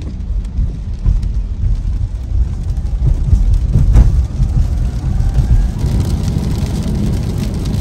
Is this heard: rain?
yes